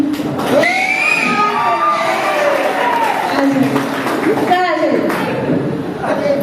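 An audience at an RCM seminar in Balrampur cheers and shouts, with scattered clapping and excited voices filling the hall in a steady, loud wash.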